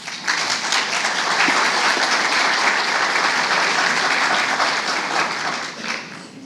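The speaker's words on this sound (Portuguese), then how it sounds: "Que seja recebido por uma salva de palmas." An audience at a Brazilian urban-innovation event applauds a speaker taking the stage, with loud, dense and sustained clapping that fills the room and tapers slightly at the end.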